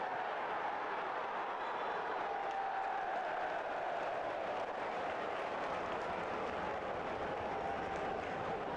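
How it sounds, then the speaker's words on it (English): Scattered ironic clapping from home supporters at a football stadium, steady and broad against a constant roar of distant voices, with no single voice standing out. "Ironic applause from the home supporters."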